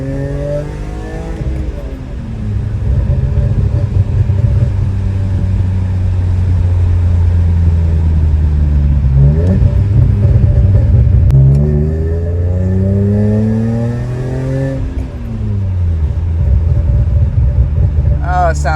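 A BMW E46 M3 engine on the move, heard from inside as the revs climb and fall repeatedly through the gears, a loud smooth six-cylinder howl sweeping up and down in pitch.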